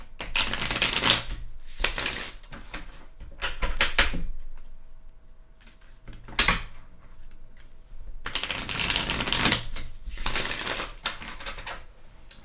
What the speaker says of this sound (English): Headphone users, these are loud to shuffle